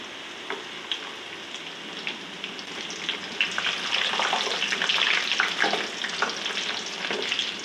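Steady frying sizzle of garlic and ginger added to browned onions in a pan, with occasional stirring scrapes and crackles that grow a little louder midway, no talking.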